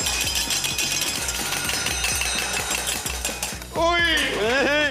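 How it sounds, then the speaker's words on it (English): Fast rhythmic knife chopping on a board on a cooking show, many quick even strokes close up, then a burst of loud voices or laughter near the end. "Yeah, we're chopping together."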